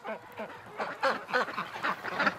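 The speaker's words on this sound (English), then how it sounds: "Everybody's awake now, making lots of noise since the tub's done and lots of quacking." Ducks quack repeatedly and noisily in a hospital enclosure, a rapid overlapping series of nasal calls, close and moderately loud, with no talking.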